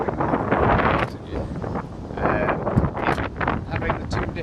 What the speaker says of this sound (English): So it could be low wind speeds but gusty like it is today